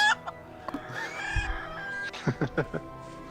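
Chickens clucking in the Heroes of Might and Magic IV game: a short burst of fowl calls and a crow-like cry, then a run of four or five quick, loud clucks near the end over a steady game music bed.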